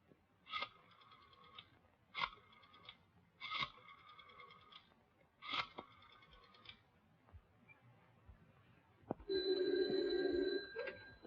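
An old telephone bell rings in four evenly spaced bursts, clear over a quiet room, and is followed by a longer steady electric buzz.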